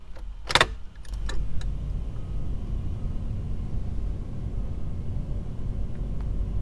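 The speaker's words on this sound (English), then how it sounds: "That is a fan." A car's heater blower fan running steadily at a low roar after the ignition key is turned to run, preceded by a brief jangle of keys, close and continuous with no talking.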